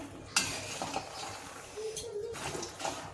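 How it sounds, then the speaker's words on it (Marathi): Fox nuts (makhana) being roasted in a pan for a makhana chivda snack, giving a light rustle and scrape with a few metallic spoon taps against the pan, close and fairly quiet. "मखाने टाकले, आता चांगले परतून घ्यायचे गरम करून"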